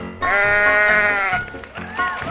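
A sheep bleats loudly and close, one long wavering call followed by a shorter second bleat, set among a children's animal-sound sequence.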